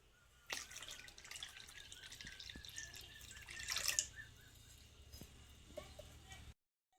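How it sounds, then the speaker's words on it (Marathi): Water goes into a pot of cooked urad dal in a village kitchen, a faint continuous trickle with small drips and splashes that ends abruptly, recorded at low level. "आता याच्यामध्ये अजून थोडंसं पाणी ॲड करू"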